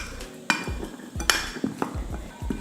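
A spoon knocks and scrapes in a bowl while stirring chopped mango with spices, irregular clinks and soft thuds repeating every half second or so, close and fairly quiet.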